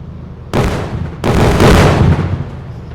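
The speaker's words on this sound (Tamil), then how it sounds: "வெடிச்சிடுச்சு," In the Indian Bike Driving 3D video game, two sharp, loud blasts go off a moment apart, each followed by a rolling boom that lingers. No voices are heard.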